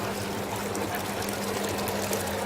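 Water runs steadily through a frozen yogurt machine during cleaning, a continuous close rushing pour with no break across the whole moment.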